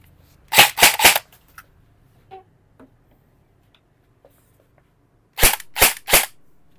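E&C M4 PDW airsoft gun firing full auto in two short bursts of about three rapid, sharp snaps each, separated by a few seconds of near silence with faint handling clicks.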